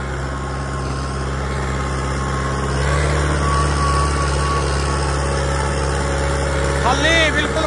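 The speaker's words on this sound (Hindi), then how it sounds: "खाली बिल्कुल खाली चल रहा है ट्रैक्टर" A modified New Holland 5630 tractor engine runs unloaded with a steady low rumble, fairly close and continuous, swelling slightly partway through, with faint background noise.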